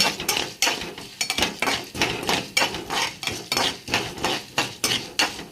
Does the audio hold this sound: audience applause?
no